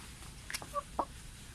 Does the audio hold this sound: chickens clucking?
yes